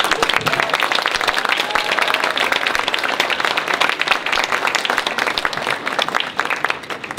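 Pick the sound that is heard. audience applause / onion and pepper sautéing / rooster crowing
audience applause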